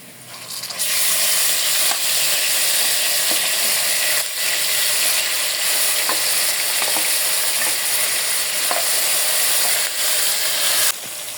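Spices hit browned onions in a hot pan and a loud, dense sizzle takes over, with faint stirring scrapes under the steady frying and no speech.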